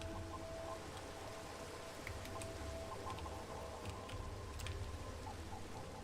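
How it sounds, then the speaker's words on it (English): Steady rain falls in the Minecraft video game as a faint, even hiss of patter that runs unbroken from start to finish, with soft tonal hints underneath and no voices. "One amazing thing about Minecraft music is how well the sound of rain goes with all of it."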